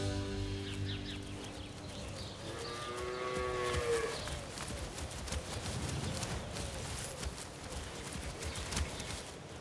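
A cattle herd out on open grazing ground: several cows moo in long low calls, partly overlapping, alongside hoof clops and shuffling movement, with occasional faint bird sounds behind.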